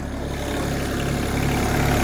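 A Yanmar VIO20 mini excavator, about 2.1 tonnes, idling with a steady low, even engine drone heard up close, unchanging and alone.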